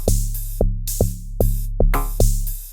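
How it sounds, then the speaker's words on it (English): Amapiano log drum pattern, deep booming bass notes with bright tops, struck in a syncopated rhythm of about six hits, loud and alone. "The log drum sounds like this."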